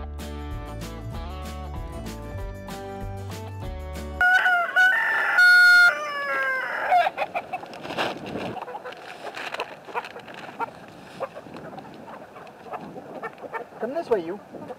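Chickens cackle and a rooster crows amid farmyard clamor, following a burst of music at the start; voices and movement noise carry on underneath.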